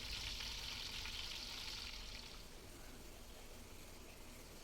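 A whole chicken sizzles in hot oil in a wok, a soft steady frying hiss that is louder at first and then settles into a quieter bubbling crackle, with no talking.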